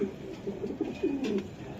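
Pigeons at a pigeon market give soft, low cooing in short repeated bursts, close and fairly quiet, with no talk.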